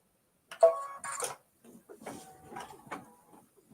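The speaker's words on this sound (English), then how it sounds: "now it's time to stitch the rest of his scarf" An embroidery machine stitches a scarf design on a mini-quilt, giving short bursts of mechanical clatter and ticking with brief pauses between runs, close and moderately loud.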